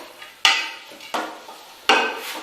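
Chopped onions tossed into a pan for kaleji ka salan, with three sharp bursts of sizzling and clattering stirring against the metal, each fading quickly before the next.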